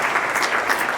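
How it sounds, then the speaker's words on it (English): An audience at an education panel claps, a dense and steady burst of applause from a crowd indoors, heard briefly and without talk. "Let's give him a round of applause."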